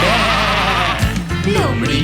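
A sheep bleats in a children's rhyme: a loud, wavering, drawn-out bleat up close, running over backing music and shifting pitch near the end.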